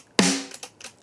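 A single woody snare hit cracks sharply and decays quickly, followed by a few faint softer ticks, heard alone at a modest level.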